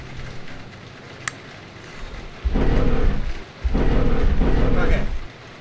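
Heavy thunderstorm rain in the horror video game Dungeon Nightmares 2, quiet at first, then two loud broadband surges of pouring rain and rumbling thunder, with one brief sharp click near the start.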